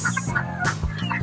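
Chickens at a poultry farm cluck in short, close bursts, several birds overlapping in a busy, steady pattern with no talking.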